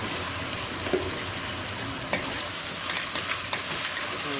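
Mussels sizzle and fry in a hot pan with light soy sauce, a steady crackling hiss with occasional stirring clatter that grows slightly louder partway through.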